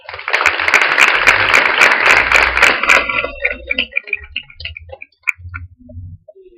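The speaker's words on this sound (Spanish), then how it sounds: "le damos un fuerte aplauso" Audience at a school panel event clapping loudly for about three seconds, then thinning out into scattered claps and quiet room noise.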